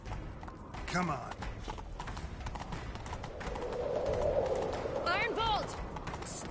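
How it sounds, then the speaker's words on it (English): Horse hooves clip-clopping in the video game The Witcher 3, a steady gallop rhythm over wind and ambient bed, with short voice-like calls on top. "Grab a horse, we'll chase him down."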